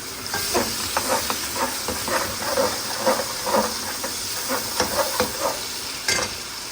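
Tomato dropped into a hot pan of matar pulao base, with steady sizzling frying and repeated stirring scrapes throughout, close and moderately loud, no talking.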